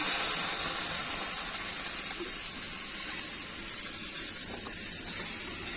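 Spice paste hits a hot pan for a sour curry of potato, eggplant, tomato and drumstick, giving a loud, even sizzling hiss of steam that eases slightly but holds throughout, with no voices.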